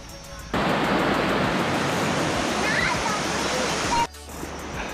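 A waterfall stream beside a nature trail at Khao Yai gives a loud, steady rushing roar of water that swells in suddenly and cuts back down near the end.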